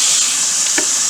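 Turkey fat frying in a pan gives a steady, close, broadband sizzle that holds without a break, with one faint brief knock near the end.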